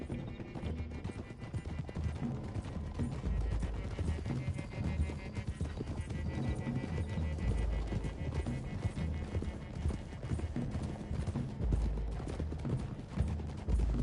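Horse hooves clip-clop steadily in Red Dead Redemption II, a group of riders moving along a road toward hills, with occasional whinnies over continuous outdoor ambience and game sounds.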